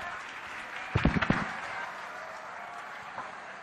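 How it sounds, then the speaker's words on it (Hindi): An audience at an event with Yogi Adityanath bursts into a short round of applause, a dense clatter of claps lasting about half a second before fading under a steady hall murmur. "आप सबकी जोरदार तालियों के प्रणाम के साथ"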